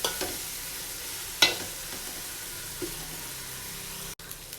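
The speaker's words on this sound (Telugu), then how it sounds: "గార్లిక్ పేస్ట్ వేసిన తర్వాత పచ్చివాసన పోయేంత వరకు ఫ్రై చేసుకోవాలండి" Ginger garlic paste frying in a pan for tomato rice, a quiet steady sizzle with a few soft scrapes of stirring, heard alone.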